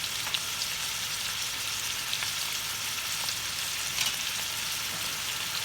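Vegetables seasoned with thyme fry in a pan, giving a close, even, continuous sizzle with faint crackles and no talking.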